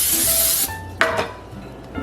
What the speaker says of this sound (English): I'm just gonna spray it with some non-stick cooking spray.